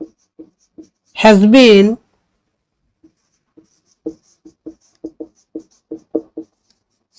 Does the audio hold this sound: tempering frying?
no